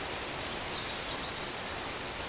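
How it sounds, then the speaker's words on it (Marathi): Heavy rain pours down in a steady, dense hiss that holds even throughout, with no voices. "जोरात पाऊस पडत आहे आमच्या तिथे"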